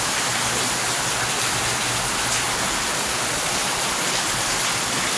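Floodwater rushes steadily outside a house, a constant broadband roar like a stream or heavy rain that holds even and unbroken throughout, close by with no voices.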